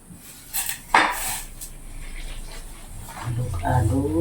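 A spoon stirs boiling water in a kitchen pot, giving a few scraping clinks and a sharper knock near the start, followed by soft swirling and clinks toward the end.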